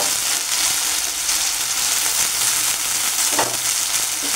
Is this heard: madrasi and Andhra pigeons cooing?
no